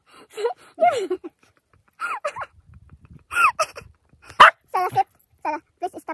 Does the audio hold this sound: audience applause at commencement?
no